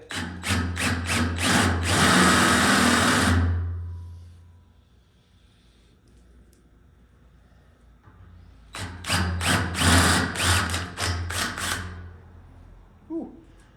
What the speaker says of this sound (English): I'm using a 7/16 drill bit.